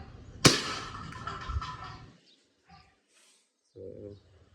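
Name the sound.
WE G17 gen3 gas pistol firing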